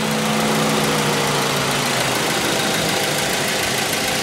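A car engine idles steadily just after an oil change, with a smooth, continuous rumble and faint ticking texture, close up and fairly loud throughout, with no voices.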